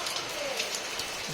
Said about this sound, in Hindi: बहुत ज़्यादा बारिश हो रहा है बाहर